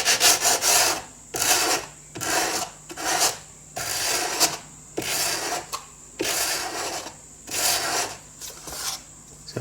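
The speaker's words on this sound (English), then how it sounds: "blending that now with the sanding block's really easy" Rhythmic rasping strokes of a sanding block on a wood edge of an Art Deco clock, about a dozen back-and-forth passes, close and clear with short pauses between.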